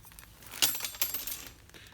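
Metal tweezers clatter onto a table, a sharp tinkling hit followed by a few lighter bounces.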